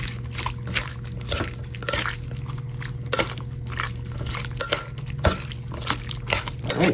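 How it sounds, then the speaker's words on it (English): Salmon poke being stirred with Aloha Shoyu poke sauce, with a steady wet squishing and sloshing and soft repeated clicks over a constant low hum, close and fairly quiet. "and then we'll just give it a good stir."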